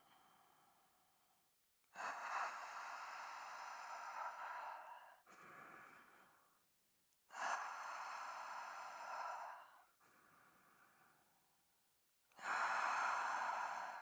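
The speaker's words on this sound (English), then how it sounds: "deep breathing." Deep breathing during a wall Pilates stretch, three long, close, audible breaths, each a drawn-out exhale followed by a softer inhale, separated by brief pauses.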